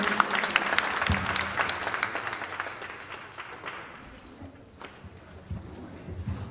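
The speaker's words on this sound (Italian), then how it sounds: "un applauso grande alla nostra presidente e a tutti voi che siete qua" An audience applauds at a literary prize ceremony in San Giovanni in Fiore, Italy, with dense clapping that is loud at first and then gradually thins and fades away.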